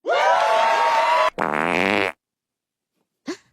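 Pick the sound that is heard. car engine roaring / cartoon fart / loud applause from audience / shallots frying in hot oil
cartoon fart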